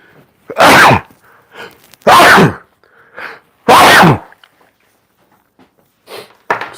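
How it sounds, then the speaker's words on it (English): Three loud, forceful sneezes spaced about a second and a half apart, followed by quieter sniffs and small noises. "Sneezes"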